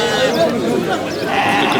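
At a livestock market in southern Tunisia, goats bleat in a wavering, layered chorus amid crowd chatter and nearby voices.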